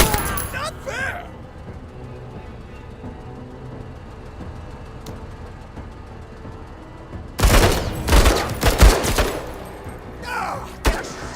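Troops exchange gunfire on a Total Warhammer III multiplayer battlefield, with a sudden burst of loud cracking volleys and thuds erupting after a stretch of low ambient rumble, a second flurry following shortly after.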